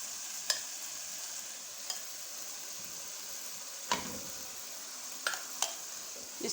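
A steady, quiet sizzle of samosa filling frying in a pan, with a few soft spaced clinks and scrapes as potatoes are added and stirred in. The sounds are close, and no one talks.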